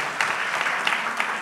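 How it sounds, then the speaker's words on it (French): A brief burst of audience applause at a training-school brunch event, steady dense clapping that fills the moment without any voice over it. "Alors, Karine Varamian, on peut l'applaudir"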